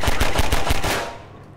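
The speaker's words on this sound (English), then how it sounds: "I shot him like 400 times" Pistol fire in Half-Life 2, a quick run of about seven loud, closely spaced shots that ends in a fading echo.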